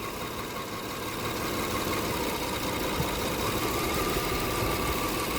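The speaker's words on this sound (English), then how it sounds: "if we disconnect this plug now, right, we should get a misfire" A Toyota Kluger V6 engine idles with the cylinder 4 ignition coil pack disconnected to cause a misfire. It gives a steady, close, slightly uneven running drone with no talking.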